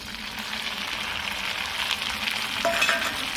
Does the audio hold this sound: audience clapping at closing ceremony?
no